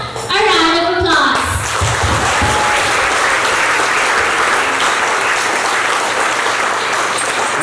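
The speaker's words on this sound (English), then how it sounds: "let us give our congratulations to our bride and groom. Let's give them a round of applause." Wedding guests applaud the bride and groom at a reception: a brief spoken voice opens, then loud, sustained crowd clapping fills the room to the end, with faint chatter beneath.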